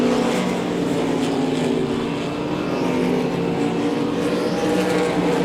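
Dirt track race cars roar around Devil's Bowl Speedway during the Winter Nationals, a steady, loud engine drone holding through the whole stretch without a break.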